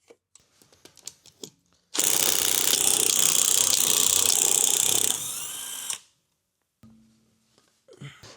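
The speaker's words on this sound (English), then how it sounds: "the next step is I'm going to remove this front right wheel so I can access the whole timing chain or timing belt" A power tool, likely an impact wrench, buzzes loudly for about four seconds while the front right wheel of a Volvo V40 D3 is removed, with quiet clicks and clatter of handling before and after.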